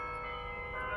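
Bells ringing from a building, a faint sustained metallic tone with layered overtones heard from a distance for about a second.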